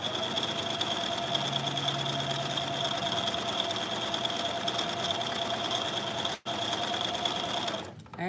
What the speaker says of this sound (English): get them cover stitch machines out